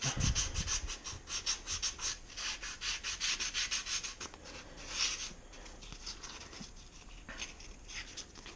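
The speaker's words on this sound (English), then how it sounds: "This is just some sandpaper I got for cheap." Cheap sandpaper scrubs rust and corrosion off a bicycle frame for a klunker build. Quick back-and-forth rasping strokes come close and loud at first, then ease into softer, slower rubbing.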